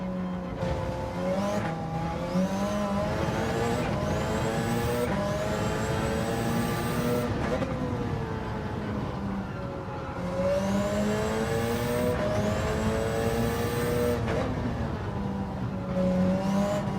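A race car engine in a Monza sim racing game revs up through the gears again and again, each rising whine cut by a shift, with tyre noise beneath, loud and continuous.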